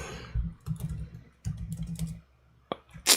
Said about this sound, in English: I'm typing Amazon